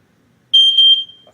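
A smoke detector being tested lets out a loud, piercing electronic beep lasting about half a second, alone in an otherwise quiet room.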